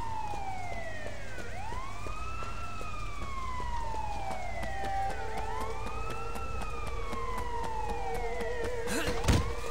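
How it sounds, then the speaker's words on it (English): Police sirens wail in the Sleeping Dogs video game, several overlapping rising and falling tones sweeping at moderate distance over a steady low rumble of city traffic, with a sharp thump near the end. "those fucking sirens"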